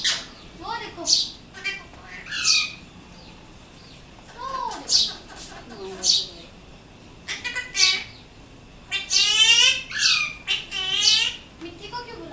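A pet parrot squawks in sharp, shrill bursts, repeated calls spaced a second or two apart, loud and close, with human speech in between.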